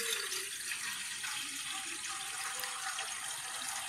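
Water is poured into a cooking pan, a steady, fairly quiet splashing stream that runs evenly for a few seconds with no talking.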